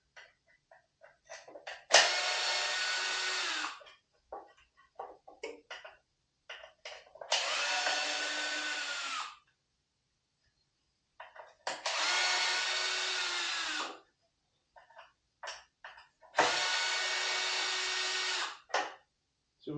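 A power driver whirs in four separate bursts of a few seconds each, separated by quiet gaps, while it backs out T15 Torx screws from a tool box accessory, close and loud.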